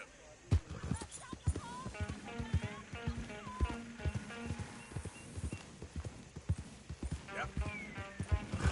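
A horse in Red Dead Redemption 2 trots along with steady clip-clop hooves, rhythmic and fairly close, while a voice speaks briefly over the game sounds.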